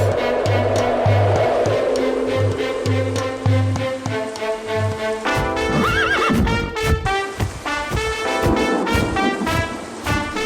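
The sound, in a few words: unicorn horse neighing and hooves in cartoon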